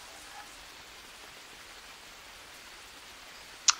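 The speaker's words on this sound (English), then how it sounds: "this rain's coming down and making this little river run." Steady rain falls in the Amazonian jungle of the Green Hell video game, a soft even hiss of drops throughout, with one brief sharp tick near the end and no voices.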